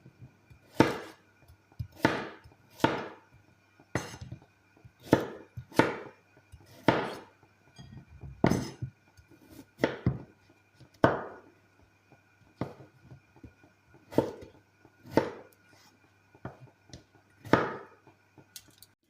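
Potatoes cut into small cubes with a knife on a board, giving a slow, irregular series of distinct chopping knocks spaced about a second apart, each ringing briefly, heard alone without talk.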